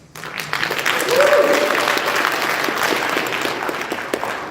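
Audience clapping at a live ripping show at Super MAGFest, a dense wash of many hands applauding steadily throughout, with crowd voices and cheers mixed in and a brief whistle-like tone early on.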